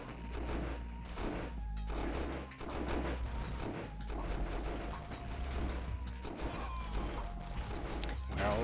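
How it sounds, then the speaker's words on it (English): Airstrike explosions in the real-time strategy game Dune 2000 hit a starport, producing a quiet, rapid string of booms, crashes and gunfire-like bursts with brief lulls between volleys. "Now an airstrike gonna take out that starport right when it was unloading the cargo."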